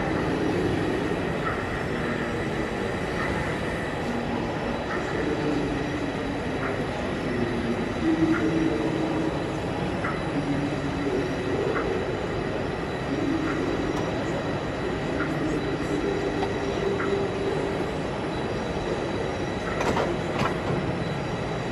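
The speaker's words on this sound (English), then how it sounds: "An example is proved here as we see Class 9F Evening Star backing onto a rake of Pullman carriages." A Class 9F Evening Star model locomotive backs onto a rake of Pullman carriages on an OO gauge exhibition layout, giving a steady rolling rumble with faint wheel clicks and squeal throughout.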